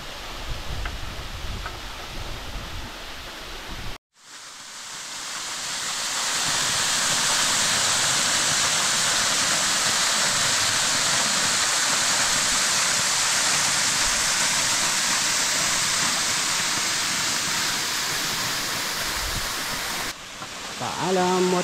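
Waterfall on the Mount Nangtud hiking trail in Antique, Panay Island, a loud steady roar of falling water that fills most of the clip after a brief dropout, with faint voices and trail noise at the start and end.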